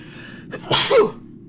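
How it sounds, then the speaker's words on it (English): A computer character sneezes in the video game Space Pilgrim: one short, loud, close sneeze with a quick breathy intake, then a sharp burst, alone against quiet background. "computer sneezed."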